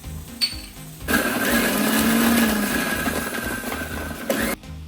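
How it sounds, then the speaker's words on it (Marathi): A mixer grinder whirs steadily for several seconds, blending green chili, garlic, a little coriander and cumin into a paste for sweet corn bhaji. The motor is loud and close, with short clicks before it starts and as it stops. "आता आपण मिरची लसणची पेस्ट करून घेऊया"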